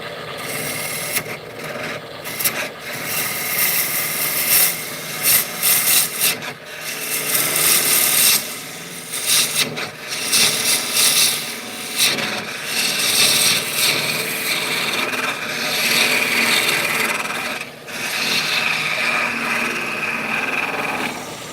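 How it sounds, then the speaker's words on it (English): Square scraper cutting wood on a spinning lathe, a steady loud rasping scrape with rough fluctuating texture that continues throughout, with no talk. "Let me get my square gouge here, or square scraper."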